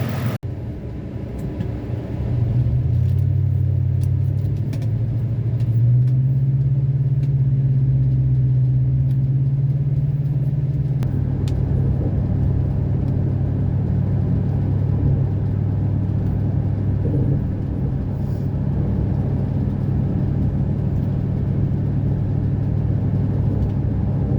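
A Ford F-150 with a 5.4L engine drives on a test run, its steady low engine drone and road rumble holding throughout with no talk.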